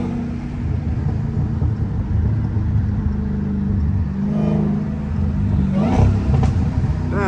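Loud, steady engine drone from a Dodge Hellcat with a mid muffler delete, heard from inside while driving, a deep rumble holding level with a brief rise in revs near the end.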